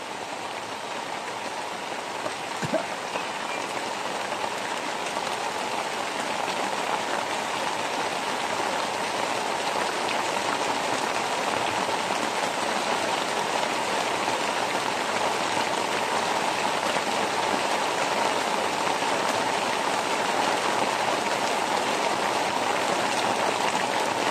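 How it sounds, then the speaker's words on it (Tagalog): Heavy rain pours in a loud, unbroken roar, steady for the whole stretch, with a single brief knock near the start. "May ulan pa rin eh."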